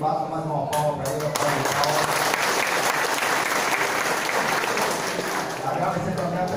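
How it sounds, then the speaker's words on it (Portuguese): Sustained applause from an audience at a political event in Brazil, a dense continuous clapping that holds steady throughout, with voices faintly mixed in beneath it. "doutor Cosme Araújo, que bata mais uma palma para ele"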